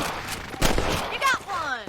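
Rapid gunfire cracks out in a short burst of several shots while shooting rabbits in the Red Dead Redemption video game, loud and close, with a voice speaking amid the shots.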